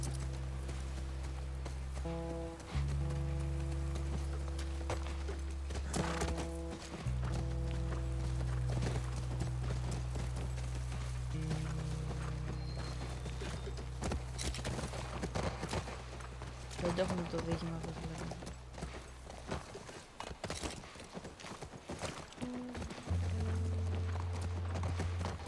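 Horse hooves clip-clop in a steady, rhythmic gait in The Last of Us Part I, running through most of the stretch beneath sustained game music tones, with a player talking over it.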